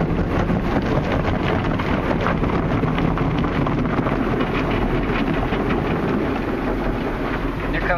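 Steady, dense rush of water spray drumming against a car in a car wash, broadband and loud throughout with no pauses or voices.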